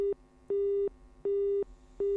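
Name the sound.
telephone line tone while calling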